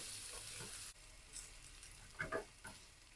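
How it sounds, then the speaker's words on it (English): Garlic, shallot and ginger frying in a pan over low heat, giving a faint steady sizzle with a few soft stirring scrapes, no talking. "Put in all your garlic, shallot, and the ginger. Now fry until you can smell the fragrance from the item."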